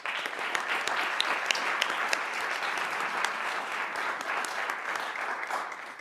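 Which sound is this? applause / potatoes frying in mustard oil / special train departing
applause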